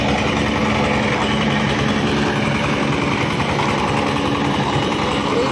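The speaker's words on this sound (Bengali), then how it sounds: "এখানে দেখেন 25 হর্সের একটা ইঞ্জিন আমরা ব্যবহার করেছি।" A 25 horsepower diesel engine powering a large Anaconda-model silage cutter machine runs steadily nearby, a loud, continuous low chugging drone with no pauses or talk.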